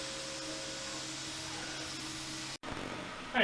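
A CNC machine roughing out knife blade stock held down by two bolts, giving a steady, loud broadband whir of cutter and spindle that runs almost unbroken, drops out for a moment, then resumes with a brighter hiss at the end.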